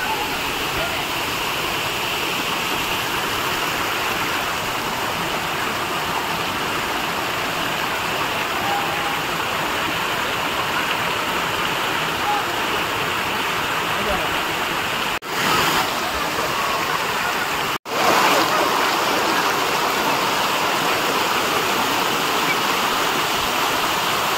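A waterfall near the Gagangiri Maharaj math in Khopoli pours in a continuous broadband roar, loud and unbroken apart from two brief dropouts near the end.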